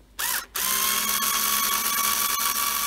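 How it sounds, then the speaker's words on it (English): An electric screwdriver backs out screws from a DFS sofa bed mechanism, a brief whir followed by a steady, close mechanical buzz with a faint ratcheting edge, no talking. "I've found my electric screwdriver. So this is now going to be a lot easier."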